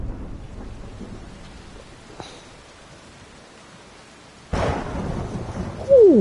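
Thunderstorm in the Detroit: Become Human video game: steady rain hiss, a sharp crack of thunder bursting in near the end with a louder rumbling roll, and a rising tonal sweep at the very close.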